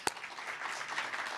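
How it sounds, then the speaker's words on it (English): Brief applause from an audience as scholars are invited onto a stage, a soft, steady patter of many hands at moderate distance after one sharp clap at the start. "And round of applause."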